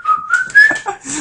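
A person whistles a short melodic tune, close and fairly loud, with the gliding pitch of a familiar cheerful song, heard alone without talk.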